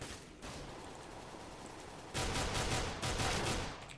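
Pistol gunshots in the video game Counter-Strike: Global Offensive, with a steady rattle of gunfire at moderate distance that grows louder and denser partway through, shots cracking in quick succession with no talk.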